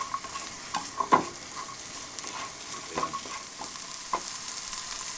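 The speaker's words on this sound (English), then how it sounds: "You just want to saute your mushrooms and your asparagus for about 2 to 3 minutes" Mushrooms and asparagus sauté in a hot pan, with a soft, steady sizzle and occasional scraping clicks as the pieces are stirred, fairly quiet and close with no talking.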